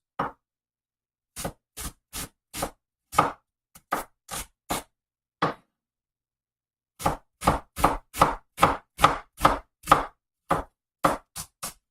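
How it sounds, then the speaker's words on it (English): A kitchen knife cuts an onion into even quarter-inch slices on a cutting board, giving crisp, close knocks in an irregular rhythm, then a quicker run of steady chops after a brief pause. "Okay, nice even cut, 1/4-inch slices."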